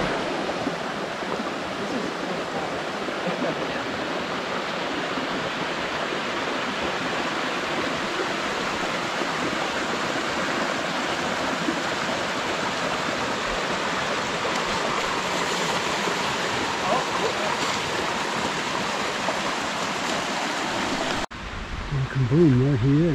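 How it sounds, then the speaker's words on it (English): A waterfall at Cedar Run, Whiteoak Canyon, roars with steady broadband rushing water, continuous and fairly close, with faint voices underneath; it cuts off abruptly near the end as a louder voice comes in. "And there's a waterfall there."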